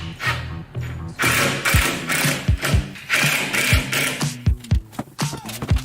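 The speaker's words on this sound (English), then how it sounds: "pre-drilled some holes and screwed it in with some 2-inch deck screws again" Holes are drilled and 2-inch deck screws are driven into wood along a cabin's top side, with loud close bursts of power-tool whirring and several sharp ratcheting or clicking hits between them.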